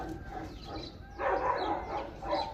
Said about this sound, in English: Oh my god, the dogs are barking.